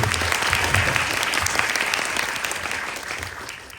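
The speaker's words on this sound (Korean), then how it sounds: "박수 부탁드립니다." Audience applause at a film screening talk, a full, sustained round of clapping from a crowd that gradually tapers off toward the end.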